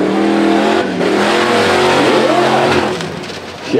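The Rattle Trap drag race car revving hard, a loud close engine roar with rising and falling pitch sweeps, a brief dip near one second and another lull before it surges again at the end.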